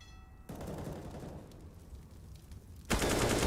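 Rapid automatic gunfire in Counter-Strike: Global Offensive during a pro match, a dense sustained burst of shots that swells louder and harsher near the end, with no talk over it.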